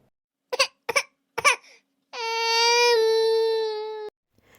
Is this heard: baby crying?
yes